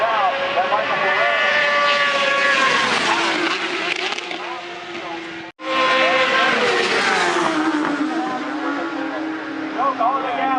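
Superbikes at full throttle in a Canadian pro superbike race, loud high engine whine rising and falling as bikes pass close, a brief drop midway, with race commentary over it.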